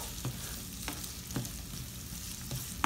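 Chopped onions sizzle softly in a pan with a little garlic, frying steadily to soften, with a few faint stirring scrapes at intervals and no talking.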